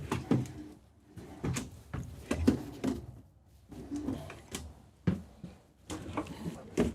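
Repeated wooden sliding thumps and clunks as drawers in a 2025 Renegade Valencia 36SB motorhome are pulled open and pushed shut, several in a row at close range with brief pauses between.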